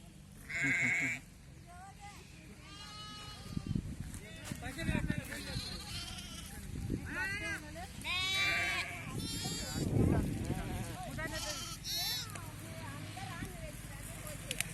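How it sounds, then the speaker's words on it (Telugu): Sheep caught and held for PPR vaccination bleat repeatedly in wavering cries, some close and loud, others farther off, amid people talking and shuffling livestock around them. "అరే గొర్రెని పట్టేశారు పీపీఆర్ వ్యాక్సిన్ వేయడానికి."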